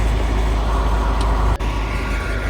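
A tow truck engine rumbles loud and close, come to tow a vintage RV stranded in freezing winter weather; the heavy, steady drone cuts out briefly midway before resuming.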